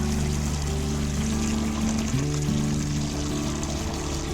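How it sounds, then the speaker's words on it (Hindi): About ten litres of water pour steadily into a container for a plant tonic mix, a continuous close gush with no talk. "अब इसके अंदर 10 लीटर पानी मिलाना है"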